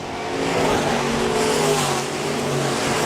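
B-Modified race cars running a heat race on a dirt speedway, a dense, continuous roar of several engines blending together at a steady distance, with no speech heard.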